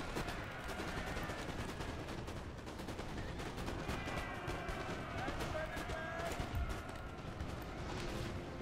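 Musket volleys and scattered gunfire crackle steadily through a Napoleonic battle in Napoleon: Total War, dense and continuous over a battlefield din, with voices mixed in.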